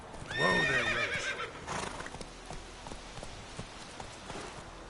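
Roach, a horse in The Witcher 3, gives a loud close whinny followed by soft hoof clip-clops and faint rain-like patter in the background.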